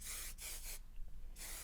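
An aerosol can of hairspray is sprayed onto hair in three short hissing bursts, the first two quick and back to back, then a pause with faint handling before a final burst, all close and clear.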